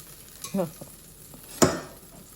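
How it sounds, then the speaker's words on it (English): Flour being stirred into melted butter for a bechamel sauce: a few short scraping strokes, the loudest near the end, with a soft sizzle underneath, close and fairly quiet. "I had to continue to stir, to make sure the flour dissolves"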